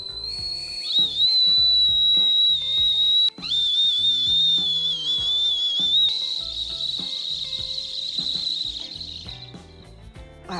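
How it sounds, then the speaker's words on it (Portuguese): A handheld whistle is blown hard in long, shrill, sustained blasts whose pitch wavers slightly, with brief breaks between blows over about ten seconds and no talking. "Posicionar o apito na boca e aí vai soprar."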